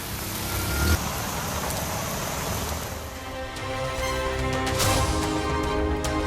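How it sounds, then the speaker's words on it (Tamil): Vehicles crawl along a flooded road in Kanpur during heavy rain, engines rumbling close by under the steady wash of rain and splashing water, with no talk. "மேடு பள்ளம் தெரியாமல் ஊர்ந்து சென்ற வாகனங்கள்."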